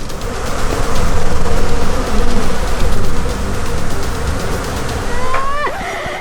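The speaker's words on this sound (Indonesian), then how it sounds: "evakuasi sarang-sarang lebah yang ada di atap rumah tetangga" Bees swarming around a beehive being removed from a neighbour's house roof, a loud dense continuous buzzing that swells and eases in waves, close to the listener, with a brief squeaky tone near the end.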